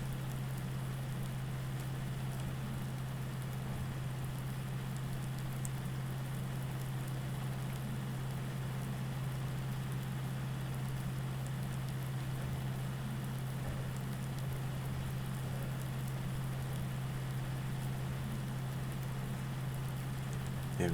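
Steady rain hisses without a break in Farming Simulator 19, with a constant low hum running beneath it and no talking.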